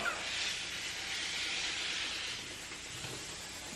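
Beauty hair steamer giving off a steady, loud hiss of steam that runs unbroken and close by, easing slightly toward the end.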